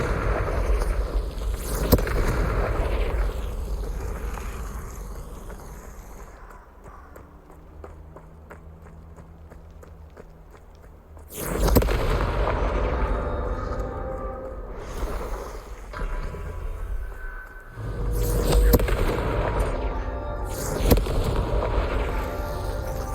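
Confringo spell blasts in Hogwarts Legacy: loud, broadband fiery explosions hit in sudden bursts over a steady rumbling game soundscape.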